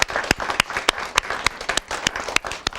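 An audience claps for a student at a talk-show event, a brief burst of scattered, uneven hand claps with individual sharp slaps standing out, fairly close and sustained for a few seconds.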